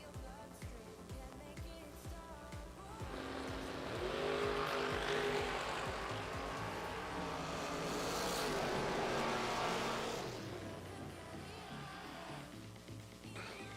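A pair of drag cars, a Chevy II and a Camaro, roar loudly off the line at a drag strip, a sustained engine blast with tire noise that swells for several seconds before easing, faint crowd and track ambience around it.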